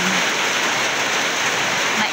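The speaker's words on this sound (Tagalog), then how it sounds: "Umulan na guys." Rain beginning to fall outdoors in the afternoon after a hot morning, a dense, even, hissing downpour close by, continuous and fairly loud for the whole two seconds with no talk.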